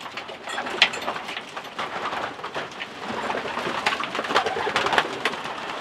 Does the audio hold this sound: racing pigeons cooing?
yes